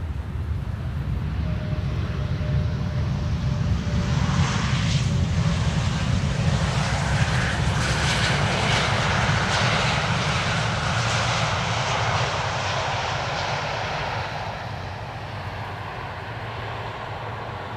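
An airliner arrives on the Polderbaan, runway 18R at Amsterdam Schiphol, its engine roar swelling loud and broad from a distance, then slowly fading over nearly twenty seconds.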